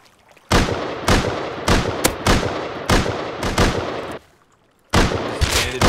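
Gunshots in the video game Rust crack out in a rapid series of loud, close reports, about nine in quick succession, then a brief silence before another burst begins.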